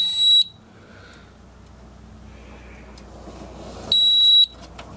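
A fire alarm sounder on a conventional alarm system shrieks in two short, loud, high-pitched bursts, one at the start and one near the end, with quiet room noise between them.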